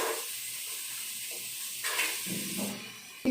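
Chicken pieces drop into hot fried masala paste in a pan, giving a steady soft hiss of sizzling that flares briefly louder partway through before settling.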